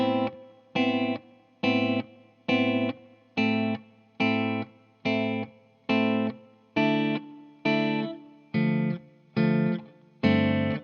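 The fingerstyle guitar part of a song has a keyboard-like tone with effects. Chords are plucked in an even, steady rhythm, about a dozen evenly spaced hits, each decaying before the next, close and alone.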